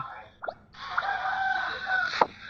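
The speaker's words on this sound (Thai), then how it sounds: "มีเสียงไก่ขันด้วย" A rooster crows once at a moderate distance, a long drawn-out call over faint background noise, with a couple of short clucks around it.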